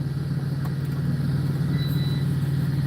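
Air conditioning in a truck cab, a loud constant low hum and blowing drone with no change over the few seconds, close and steady.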